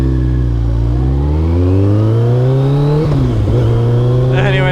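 A Kawasaki ZZR1400 motorcycle engine drones close and loud, rising steadily in pitch as it accelerates, dipping briefly with a gear change, then climbing again over constant wind noise.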